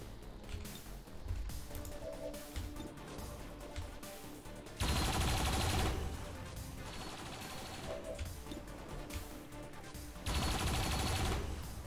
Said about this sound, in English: Shots all across the battlefield.